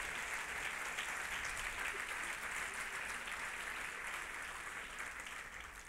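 A church congregation at a Christian rescue-mission service applauds steadily, dense clapping holding at an even level for several seconds and easing slightly at the end, with no voices standing out.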